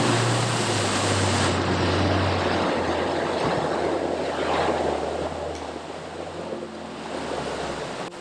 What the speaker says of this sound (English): we're trying to do a water crossing